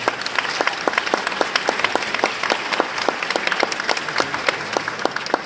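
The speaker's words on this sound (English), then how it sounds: "Give them another round of applause" An audience at a political candidates' forum in Denver applauds steadily, many hands clapping at once in a continuous, moderately distant wash of applause with sharper individual claps standing out.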